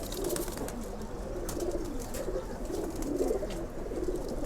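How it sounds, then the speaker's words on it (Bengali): Silver pigeons kept in stock cages at a loft coo repeatedly in soft, throaty, rolling phrases, several birds overlapping close by against a steady background hiss. "আমি আপনাদের সিলভার কবুতরগুলো দেখাই দিছি"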